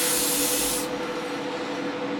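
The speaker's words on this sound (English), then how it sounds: "start laying down some 2K clear to protect the decals" Airbrush, a small Apex 3mm, spraying 2K clear coat over decals on a scale model Opel Manta 400 Group B rally car in a spray booth; a loud close steady hiss over a constant booth fan hum.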